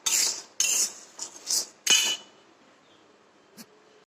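Wheat grains roasting dry in a pan for sattu flour, rattling in several short bright bursts close by, then fading to near quiet with one faint clink.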